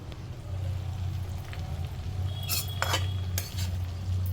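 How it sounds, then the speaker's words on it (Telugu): Gongura leaves are stirred into hot oil in a kadai for a pickle, with a spoon scraping and clinking against the pan in a few sharp metallic strokes over a low steady hum. "ఈ గొంగూర ఇందులో కలిపేస్తున్నాను నేను"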